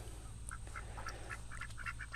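Swedish ducks at a backyard pen give a series of faint, scattered quacks, several short calls spread irregularly over a couple of seconds against quiet low background noise, with no talking.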